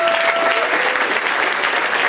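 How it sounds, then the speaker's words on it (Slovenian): Warm applause for a lady at a Russian-themed evening event, dense and continuous from an audience filling the room at steady loudness throughout. "no, en aplavz za gospo."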